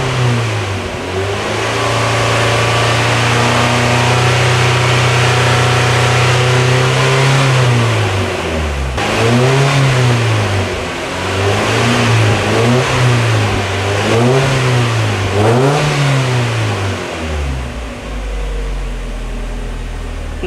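Mazda Miata engine held steady at idle, then revved repeatedly toward 4,000 RPM during an oil pressure sender check, with loud, close rising and falling whines in a wavering rhythm before dropping back to a low idle.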